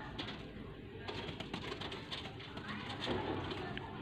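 Pigeons at a breeder's loft in Faisalabad cooing softly in the background amid faint rustling and scattered clicks, steady and fairly quiet throughout.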